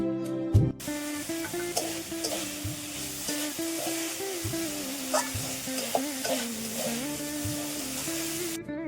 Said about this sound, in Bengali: তারপরে দেখো আলু ভাজা করে নিচ্ছি